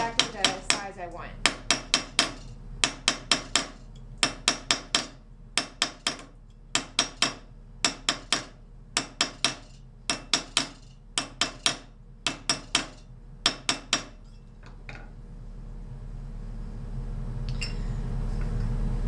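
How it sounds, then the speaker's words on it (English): A rawhide mallet hammers a soldered metal container in quick bursts of two to four sharp close knocks, repeated steadily for about fifteen seconds before falling quiet with no talk. "I'm going to hammer it one more time just for a little spot that's wonky"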